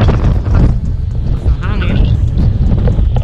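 Strong wind buffeting a microphone beside a concrete road near Tagaytay, heavy low rumbling gusts that come and go, mixed with someone talking throughout.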